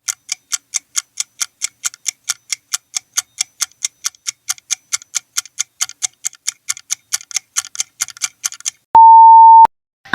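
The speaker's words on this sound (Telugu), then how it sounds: "ఆన్సర్ గడియారం." A clock ticks loudly and evenly, about three ticks a second for nine seconds, followed by a single long electronic beep.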